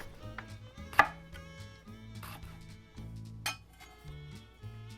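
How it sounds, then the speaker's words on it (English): A knife slices through a jalapeño on a cutting board, giving one sharp chop and a couple of lighter cuts over a low tonal background, close and clear with no talking. "So I'll go with the photo and slice it."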